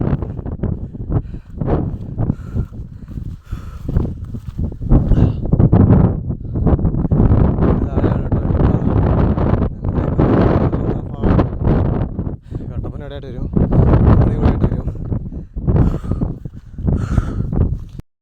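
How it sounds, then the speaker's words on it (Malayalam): Strong gusting wind buffets the microphone on a misty hilltop, a loud continuous roar that rises and falls throughout, with people talking underneath. "നല്ല ഇടിവെട്ട് കാറ്റും അടിപൊളി മഞ്ഞും"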